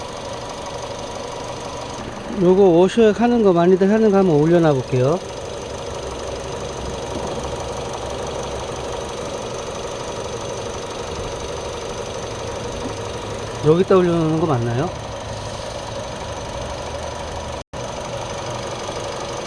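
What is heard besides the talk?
car engine idling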